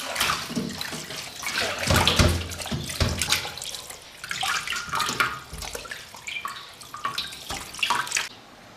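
A fish head is scrubbed clean under a running tap, with splashing, gushing water and irregular sloshes and drips, close and fairly loud, varying as the head is turned in the stream.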